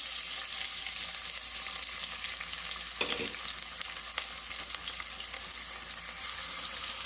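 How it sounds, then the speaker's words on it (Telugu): Onions frying in hot oil for a chicken curry, a steady close sizzle and crackle running the whole time, with a brief louder burst of spattering as they hit the pan, no voices. "ఆయిల్ హీట్ అయింది. ఆనియన్స్ వేసుకుందాం."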